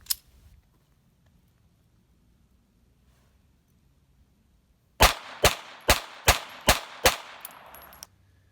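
A .32 ACP pistol fires six sharp, loud reports in quick, even succession after several seconds of near quiet, each crack ringing briefly before the next.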